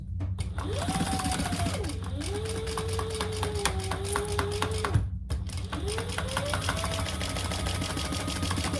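A sewing machine top-stitches a fabric hip bag with credit card slots: a steady close mechanical whir in long runs whose motor pitch rises and holds, broken by brief stops.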